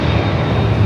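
An airliner takes off at Los Angeles airport, a loud steady engine roar with a low drone that holds through a brief moment.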